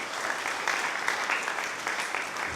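A church congregation at a Christmas service claps together in steady, dense applause, moderately loud and filling the space, with no clear talk over it.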